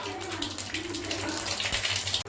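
Mustard seeds crackling in hot oil in a pan, a close, dense hiss of sizzling with fine popping that runs the whole short moment before cutting off abruptly.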